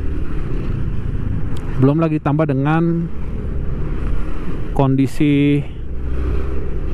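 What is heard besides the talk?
motorcycle and car traffic on the road at Puncak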